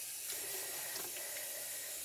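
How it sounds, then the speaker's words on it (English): A cremini mushroom is rinsed under a kitchen tap, a steady faint hiss of running water splashing in the sink with no talk. "Okay, let's rinse this."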